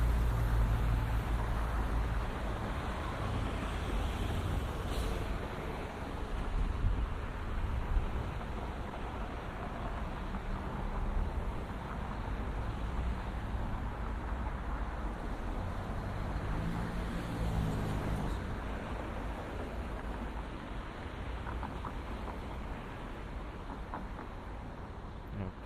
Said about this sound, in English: So stay here for a second so you guys hear some of these cars pass.